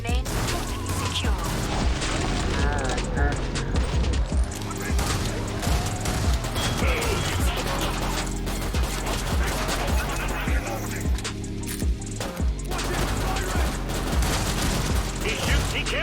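Dense, continuous gunfire from a shooter video game, with rapid automatic bursts, booms and mechanical clatter running the whole time beneath loud game music and effects.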